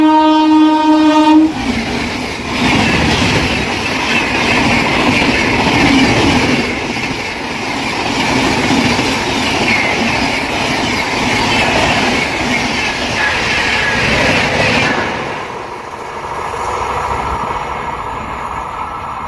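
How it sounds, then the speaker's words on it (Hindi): An AP Express train passes a stopped passenger train, opening with a brief horn blast followed by a loud, sustained rumble of wheels and rattling carriages close by, fading somewhat near the end. "ये सामने से देखिए AP एक्सप्रेस"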